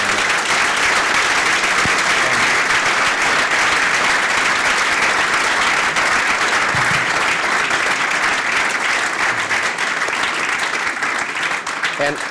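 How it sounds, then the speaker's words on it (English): Audience at a Startup Grind London event gives Metro Bank founder Vernon Hill a big, sustained round of applause, loud dense clapping filling the room for several seconds with a few voices mixed in. "Let's give Vernon a big, huge round of applause"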